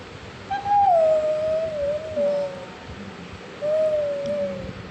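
Someone imitates a peacock's call with two long, wavering, hooting cries separated by a pause. Each cry is followed by a lower trailing note, and the sound is close and moderately loud.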